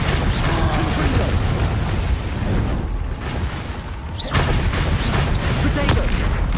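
The Confringo blasting spell in the game Hogwarts Legacy sets off loud, booming explosions over a constant rumble of combat, with a fresh heavy blast hitting partway through.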